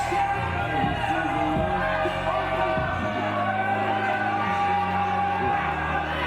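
A large wrestling event crowd roars and yells in a dense, echoing mass, with swells of shouting rising and falling and voices blending under the din.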